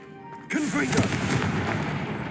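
A Confringo fire spell in Hogwarts Legacy erupts as a sudden loud blast, followed by a dense, roaring burst of crackling noise that fills the rest of the moment.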